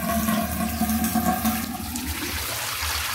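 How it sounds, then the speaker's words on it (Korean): Tap water gushes into a bathtub whose drain is clogged with hair, a loud close rush that eases and drops to a quieter splashing trickle near the end. "얼마나 물이 안 빠지는지 한번 제가 물을 틀어서 테스트를 해볼게요"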